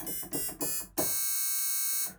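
HALion 7 wavetable synth tone with almost no fundamental, bright, buzzy and nasal, first heard as three short stabs, then held as one sustained note for about a second before fading.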